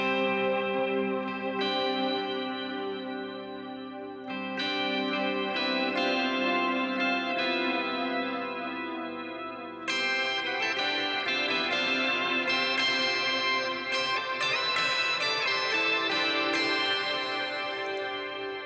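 Electric guitar notes ring out under heavy delay and reverb from a Tone Master Pro, echoes stacking into a shimmering, sustained wash that swells again halfway.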